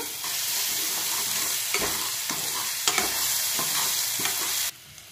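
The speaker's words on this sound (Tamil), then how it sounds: "எல்லாமே வதங்கினதுக்கு அப்புறம் இஞ்சி பூண்டு பேஸ்ட் கொஞ்சம் ஆட் பண்ணிக்கோங்க." Spices and ginger garlic paste sautéing in a pan, a continuous sizzle with a spoon stirring and scraping in several distinct strokes, close and steady, then the sizzle cuts off abruptly near the end.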